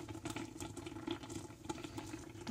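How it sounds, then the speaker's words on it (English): Lemon juice from a dollar-store bottle, a quarter cup, pours for chocolate cherry jam, a close, steady trickling splash of liquid that runs the whole time with no voices. "Again, I'm just using lemon juice I got."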